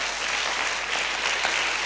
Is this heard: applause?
yes